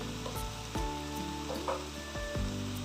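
Masala sizzling and frying in oil in a pan for Bengali oil koi fish curry, with a steady hiss and occasional stirring clinks, close and moderately loud, no talking.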